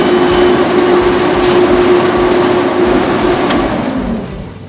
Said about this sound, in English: we're ready to start the compressor up